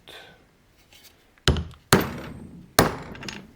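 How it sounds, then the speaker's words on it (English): Three sharp, loud hammer blows on a metal part of a Husqvarna 266/268 chainsaw, close by, the first two in quick succession and the third after a short pause, each ringing briefly. "Might have to use a regular hammer for this one."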